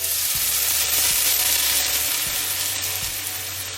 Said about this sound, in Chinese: 咱们将调好的水面粉倒入